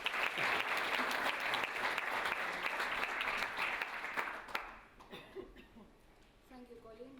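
A gala audience claps loudly for a few seconds as a woman takes the stage. The dense, steady applause then tapers off into scattered claps and a cough.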